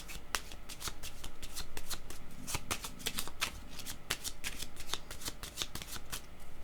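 A deck of cards is shuffled by hand for a card reading, a rapid run of crisp riffling flicks and snaps, close and clear, with no talking.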